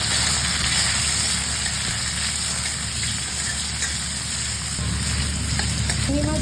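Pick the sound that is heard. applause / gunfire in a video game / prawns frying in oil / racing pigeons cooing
prawns frying in oil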